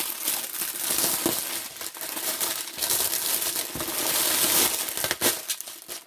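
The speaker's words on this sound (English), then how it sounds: "Crinkling, crinkling." Stiff latch hook kit canvas fabric crinkles and crunches while being handled and folded, a dense continuous rustle with sharper crackles, close and fairly loud, no talking.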